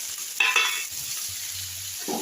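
Ground spices with onion being stir-fried in a pan, a steady close sizzle with spatula scraping and stirring strokes, and no talking.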